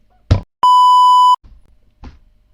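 A single loud censor beep, a pure steady tone lasting just under a second, sits between short bursts of a voice talking before and after it.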